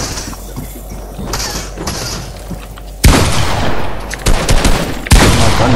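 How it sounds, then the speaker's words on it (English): Gunfire from a gun in the Fortnite video game, with two loud sharp bursts of shots midway and near the end, after quieter game sounds. "My gun shoots. Can my gun shoot?"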